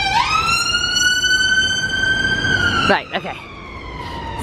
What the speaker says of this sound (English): I don't know if you can hear me with that siren in the background.